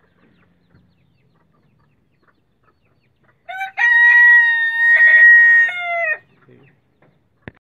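A rooster lets out one loud, close crow lasting a couple of seconds, with a few soft clucks around it, in an otherwise quiet setting that ends with a brief click.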